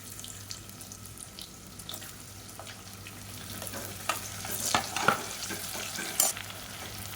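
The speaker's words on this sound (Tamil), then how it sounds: "இப்போ வெங்காயம் நல்லா வதங்கிட்டு இருக்கு." Sliced onions stir-fry in oil in a pressure cooker with whole spices for chicken biryani. The steady soft sizzle is broken by scraping and clinking stirs that grow louder toward the end.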